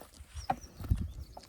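A bull walking quickly through Konkan countryside while herded out to graze, its hooves giving a few soft, uneven clip-clop steps on the ground, faint and close over a quiet background.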